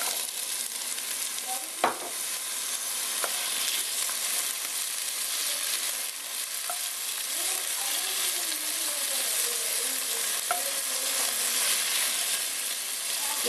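Onion and potato sizzling steadily in a frying pan for Dominican-style cod stew, a constant hissing fry with occasional clinks and stirring scrapes, close and unbroken with no talking.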